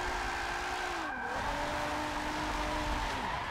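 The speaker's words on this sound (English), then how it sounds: "So, drifting without a handbrake." Car drifting through a corner without a handbrake on a racetrack in Forza 7, steady engine drone with a pitch that swoops down and up as revs shift, plus a sustained tire squeal, continuous and close throughout.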